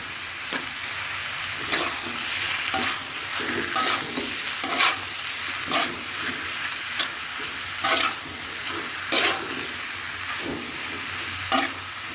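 Egg being stirred into a vegetable filling with chicken liver frying in a pan, a soft steady sizzle broken by repeated scraping strokes of a spatula, roughly one each second, fairly close.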